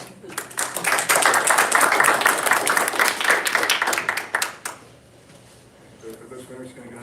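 Applause and clapping from an audience at a school board of education meeting, a dense burst of many hands for about four seconds that stops abruptly, followed by quieter room noise and faint talk.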